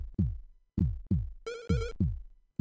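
A heavy, thudding heartbeat sound effect from the zombie game Day of the Living Dead pulses in slow repeated beats, joined briefly by a wavering electronic tone midway.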